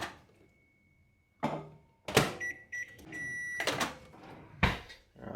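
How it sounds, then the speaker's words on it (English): Microwave oven reheating a bowl of rice for thirty seconds in a home kitchen, heard as a low hum followed by a series of door clunks, beeps and clattering handling sounds. "One more little 30-second microwave with that."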